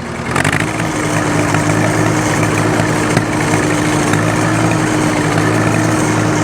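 A 1953 Allis Chalmers WD45 tractor engine runs steadily and close, a continuous loud idle-like drone with no talk over it.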